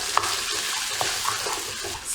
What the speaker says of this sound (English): In this step, we will stir fry the egg and the noodle